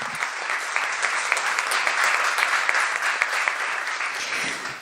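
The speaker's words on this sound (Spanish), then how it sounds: "Un aplauso para esta distinción y para ustedes." A crowd at a legislative award ceremony claps continuously in sustained, steady applause, dense and even throughout, filling the room.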